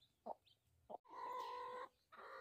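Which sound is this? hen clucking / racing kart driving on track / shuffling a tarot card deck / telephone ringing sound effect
hen clucking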